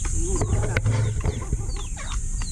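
Several chickens cluck and chirp nearby in a busy farmyard mix, with scattered short calls overlapping a low background rumble.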